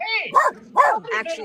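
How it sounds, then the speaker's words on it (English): A dog barks a few times at close range, short bright yips mixed in with a person talking in a friendly voice. "Oh, that's my dog saying hi."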